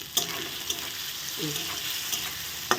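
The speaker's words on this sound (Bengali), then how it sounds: "সব সময় রান্নার আগে একটু আলুটা ভালো করে ভেজে নিলে খেতে ভালো লাগে তেলের মধ্যে" Potatoes fry quietly in hot oil with a soft continuous sizzle, broken by a few sharp utensil clicks and stirring sounds.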